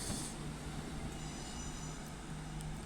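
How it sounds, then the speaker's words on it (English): Northern service diesel train 15274 pulls out of Doncaster station bound for Scunthorpe, a faint low rumble with a steady engine hum and light rail noise from a distance. "now departing is 15274 with a northern service to Scunthorpe apparently"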